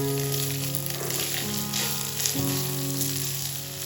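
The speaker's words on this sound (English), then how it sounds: "Ground beef has browned beautifully." Ground beef browning in a pan gives a steady, close sizzle that runs unbroken for the whole stretch, with no voices over it.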